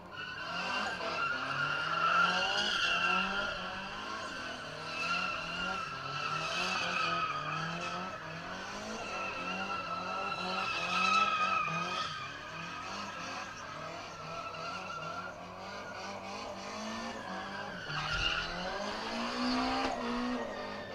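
A car drifts around a pad at a motorsport event, its tires squealing and skidding in long wavering bursts while the engine revs and surges, loud and continuous throughout.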